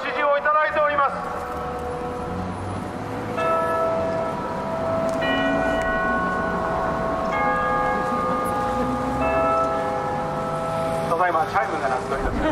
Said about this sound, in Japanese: チャイムが鳴っております